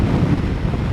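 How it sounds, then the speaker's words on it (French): Strong wind buffets a GoPro mounted on a 2024 Yamaha R1M sport motorcycle at speed, a loud, steady low-frequency roar that fills the whole second with no voices. "J'ai eu peur que la GoPro se décroche tellement il y a de vent"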